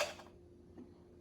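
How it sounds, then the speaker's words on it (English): Ice thrown into a cup for a pink Starburst vodka cocktail: a short, bright clatter of cubes striking the cup at the start, then a faint single clink amid quiet room tone. "So we throw some ice in the cup."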